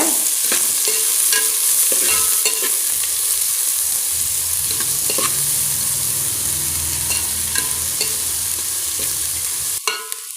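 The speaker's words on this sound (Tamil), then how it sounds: "இப்போ நாம் வெங்காயத்தை சேர்த்துடலாம் வெங்காயத்தை நல்லா வதக்கிக்கோங்க" Onions sautéing in hot oil for a chickpea gravy (channa masala kuzhambu): a steady, loud sizzle runs throughout, with a spoon stirring and scraping the pan at intervals and no talking.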